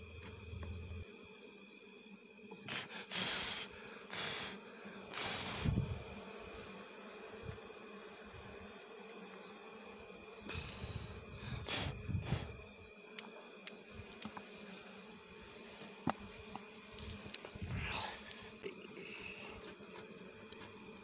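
Bees buzzing around a hive at night, a steady insect drone with several louder passes as individual bees fly close by the listener, no speech.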